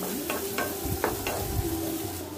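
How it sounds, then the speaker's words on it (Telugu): Chopped medium-size onion frying in a hot pan, a steady low sizzle broken by several soft scraping stirs, close and fairly quiet, with no voices. "ఒక pan తీసుకుని హీట్ అయిన తర్వాత మీడియం సైజ్ ఆనియన్ ఒకటి chop చేసుకుని యాడ్ చేసుకోవాలి"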